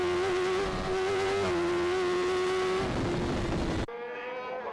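A superbike road racing motorcycle screams at high revs on the approach to McAdoo at the Cookstown 100, loud and close. The engine pitch holds, then steps down through gear changes, and the sound drops abruptly near the end.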